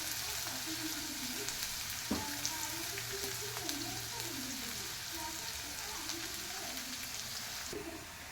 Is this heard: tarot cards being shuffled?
no